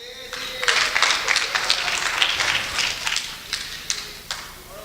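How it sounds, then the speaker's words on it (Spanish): Audience applause for a performer named Ray at a Spanish-language church meeting, a steady wash of clapping with individual sharp claps standing out, moderately loud and continuing for several seconds. "Un aplauso para Ray."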